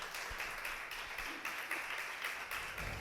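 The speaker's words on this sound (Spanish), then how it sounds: "Denle un aplauso, por favor" A congregation at a church service claps for the media team, a soft, even wash of applause that carries on steadily at a distance with no one speaking over it.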